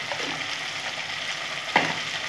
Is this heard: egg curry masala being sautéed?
yes